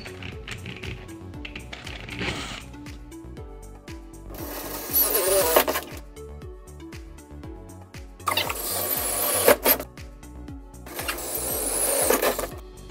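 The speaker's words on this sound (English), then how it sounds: "So then you're gonna push, slightly let the drill bit do its work." A drill boring a 1/2 inch hole through a metal stud for a TV mount, heard as three loud grinding bursts of a few seconds each, separated by quieter mechanical clicking and tapping.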